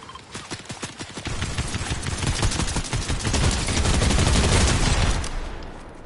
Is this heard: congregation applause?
no